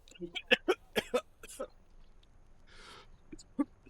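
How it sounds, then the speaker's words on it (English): A man coughs several times close to the microphone in short bursts while having tea during a live game stream, followed by a brief breathy noise and one last cough. "And cough."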